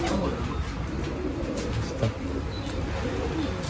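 Pigeons coo at a pigeon festival in Nashik, a low, steady burbling that runs throughout under a constant hum of crowd and ambient noise, with one brief louder bump partway through.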